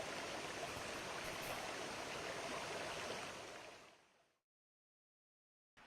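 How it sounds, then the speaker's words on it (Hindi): Floodwater streaming along a road after heavy rain in Pithoragarh: a steady, dense rushing wash like a river, fairly loud and continuous, then it fades out and cuts to silence. "सड़कों पर पानी भरने से ऐसा लग रहा है यहाँ जैसे कोई नदी बह रही हो।"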